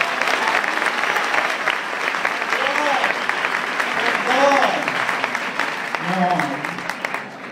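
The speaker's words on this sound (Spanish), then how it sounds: "Por favor, un aplauso primero para Ángel" Audience applause at a stage tribute event honoring a performer's 50-year career, steady and loud throughout, with a voice speaking over it in places.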